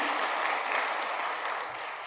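Steady applause from a church congregation, dense and continuous clapping at moderate distance, with no break for its whole length.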